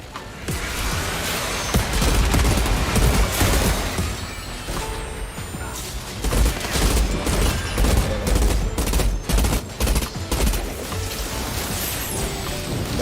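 Sniper and other gunfire in the online shooter Outriders, a dense, loud barrage of cracks and bursts over rumbling game noise, continuing steadily with brief gaps throughout.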